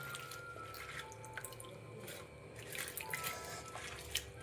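Thoothuvalai leaves are rinsed again in clean water in a kitchen, with faint, scattered drips and small splashes at low volume.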